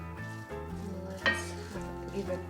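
Tandoori masala beef roasting in a pan sizzles and crackles up close as it is stirred, with a few soft scrapes and knocks of the spoon against the pan.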